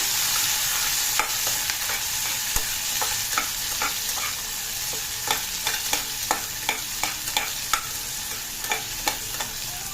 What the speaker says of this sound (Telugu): టమాటా ముక్కలు వేసుకుంటున్నామండి. వేయించుకుందాం ఇది.